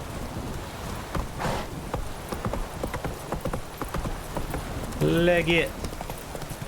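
Hooves of the horse Roach clip-clopping in The Witcher 3, a steady patter running under a player's voice with a rain-like hiss in the background, a short burst of other sound near the end.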